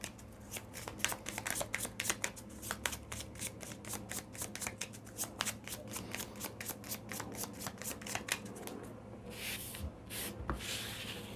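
Egyptian tarot cards being shuffled and gathered by hand, a rapid run of crisp riffling flicks followed by softer sliding and rubbing of the cards, close and quiet, with no talk.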